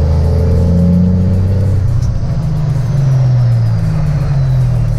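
Big rig truck diesel engine revving and droning loudly up close while gears are shifted, the low engine tone dipping and climbing again as throttle is blipped, with rattling cab noise throughout.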